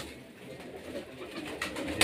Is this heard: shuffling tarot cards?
no